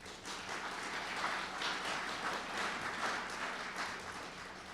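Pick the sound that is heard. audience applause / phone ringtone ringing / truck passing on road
audience applause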